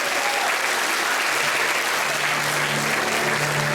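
Sustained audience applause fills the hall at a choreographic ensemble's grand solo concert in Samtredia, dense and steady throughout with a faint tonal hum rising near the end.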